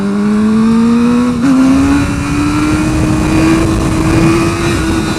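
A motorcycle engine revving hard as the rider pulls a wheelie, one loud sustained rising tone close to the microphone with wind rush underneath and no talking.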